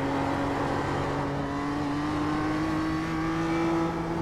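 A race car engine in a racing video game holds a loud, steady high-pitched drone that climbs slowly in pitch as the car accelerates at full throttle, continuous and close with no voices.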